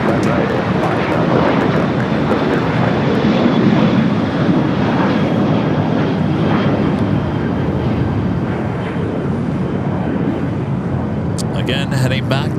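American Airlines heavy jet taking off at LAX, a loud continuous engine roar holding steady across the whole stretch with radio talk overlaid.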